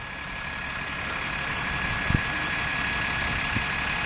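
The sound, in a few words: British double-decker bus engine idling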